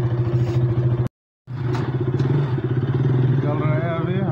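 A borrowed motorcycle engine idles with a steady low chugging after being started, briefly cutting out before running on, while someone talks over it.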